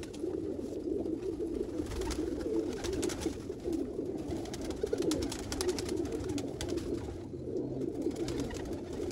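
A flock of black-faced Sialkoti pigeons, the Sheikhon wale breed, keep up a dense, steady chorus of low rolling coos nearby, layered and continuous for several seconds without any speech.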